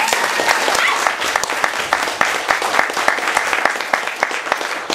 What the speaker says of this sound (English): A round of applause for Jay, please.